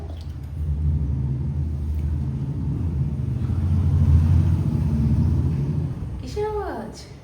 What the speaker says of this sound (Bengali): গাড়ি যাচ্ছে